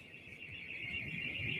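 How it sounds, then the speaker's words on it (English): Car alarm sounding in Tel Aviv after ballistic missile explosions, a steady piercing electronic tone at moderate distance, continuous and slowly growing louder, with no voices. "You can hear the car alarms going off."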